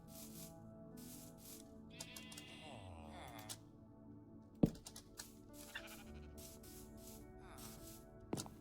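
Sheep in a video game bleat in several short wavering cries scattered over a quiet background, with a sharp clack and light rubbing noises between them.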